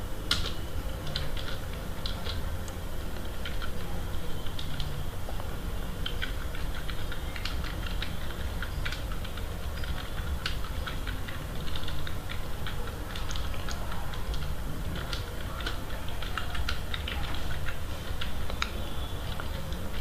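Java code being typed on a computer keyboard: a steady run of close, clicky keystrokes with irregular rhythm and no speech over it.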